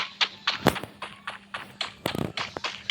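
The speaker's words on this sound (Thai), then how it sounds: "เกมมีเสียงคนเดินมา" Footsteps of someone approaching in a video game, a steady series of close, crisp thumping steps over a faint background hum.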